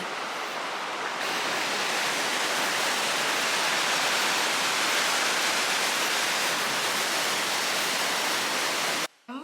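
A steady, loud roar of an Icelandic waterfall fills the whole stretch, broad and unbroken, cutting off abruptly right at the end.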